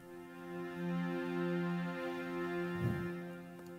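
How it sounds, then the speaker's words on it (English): Spitfire chamber strings ensemble patch at full expression: a sustained, bowed string chord that swells slightly, holding steady tones with a brief low bump near the end, soft and close with no talk. "this is the chamber strings of Spitfire"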